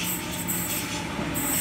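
A Waratah train pulls into the platform at Cheltenham station in Sydney at night, with a continuous close rumble of wheels and a high squealing tone that cuts out and returns, and no speech.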